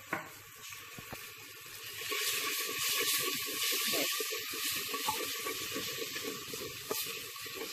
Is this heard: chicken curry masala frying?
yes